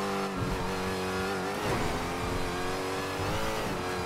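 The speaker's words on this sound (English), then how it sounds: "Oh, man, this car's too loud." A loud car engine revs hard during a police chase in GTA V roleplay, a sustained droning growl whose pitch rises and dips with the throttle and stays steady and close, with no voices over it.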